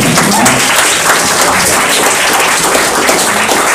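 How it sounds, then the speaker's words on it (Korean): Audience at a debate event applauding the debaters, a dense, loud burst of many hands clapping that holds steady throughout. "수고해준 토론자분들께 박수 한번 부탁드립니다."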